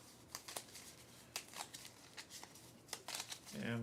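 Board game cards are shuffled by hand in quick, soft riffling bursts and slaps, close and quiet, with a brief voice at the end.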